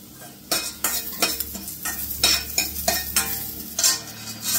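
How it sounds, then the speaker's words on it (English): Cloves and cinnamon frying over a gentle flame for Goan mushroom masala, stirred in a pan with repeated rhythmic scraping strokes of a utensil over a soft sizzle, close and fairly loud, with no talking. "Then I fry the cloves and cinnamon."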